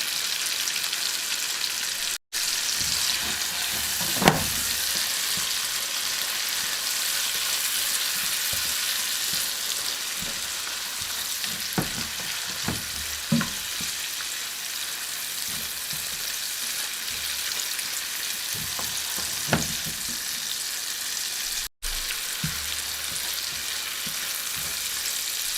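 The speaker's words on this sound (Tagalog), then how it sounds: "I will saute this and then I put all in the another pot. Add shrimp paste." Food sautés with shrimp paste in a pot, a steady bright sizzle and crackle throughout, with occasional clinks and stirring knocks scattered over the frying.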